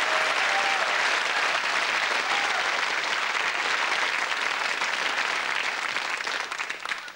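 Loud, continuous audience applause fills a television magic show studio in 1985, a dense wash of clapping that holds steady for several seconds before thinning slightly at the end.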